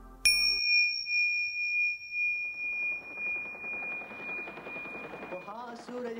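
A single bright notification bell ding rings out clearly at the start, its tone holding steady for several seconds while talk rises beneath it.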